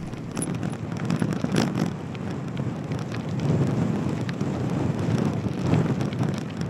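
Wind blows steadily across the microphone during a bike ride on gravel roads in New York, a continuous broadband rush that swells in gusts around the middle and end, with no talking.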